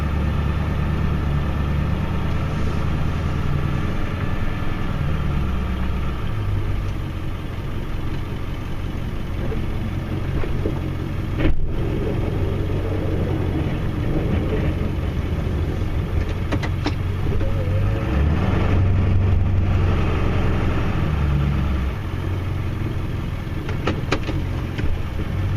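A snowplow truck's engine idles steadily outdoors in winter, a continuous low rumble that holds constant for the whole stretch with no talking.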